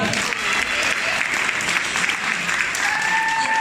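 A crowd claps through an arts-centre student performance, dense, steady applause from a sizeable audience, loud and sustained with a few cheers and voices mixed in.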